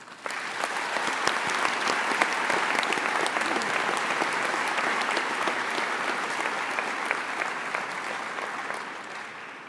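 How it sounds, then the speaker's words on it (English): A large audience at a law school's inaugural convocation applauds warmly, a dense, steady wash of many hands clapping for nearly ten seconds and tapering slightly toward the end. "Families and friends, please join me in giving a round of applause for these individuals."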